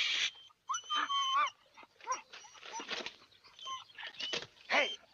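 Several dogs yelp and whimper in a comedy film scene, with sharp, high, close cries coming in quick irregular bursts and short pauses between them.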